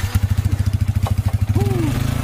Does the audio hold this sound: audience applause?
no